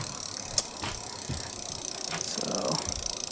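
Ratcheting clicks from bicycle gears shifting on a fat trike being built, a few sharp close clicks and a soft rattle of mechanism against light background noise, no voices.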